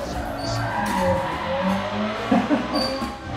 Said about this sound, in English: Let's do a little bit of a launch.